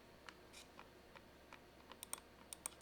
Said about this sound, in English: I was freaking clicking the buttons